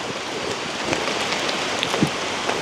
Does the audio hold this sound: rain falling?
yes